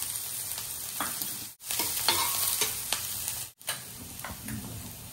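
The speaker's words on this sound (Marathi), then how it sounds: "आपण कांदा परतून घेऊया. आपण लसूण घालूया." Onion and garlic sauté in a pan for a raw banana bhaji, a dense near sizzle with spatula stirs, briefly cut off twice before resuming.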